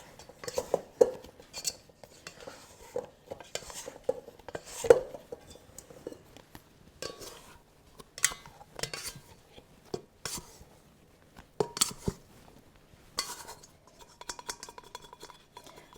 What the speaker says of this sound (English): I'm going to scrape this out and put it directly on the countertop.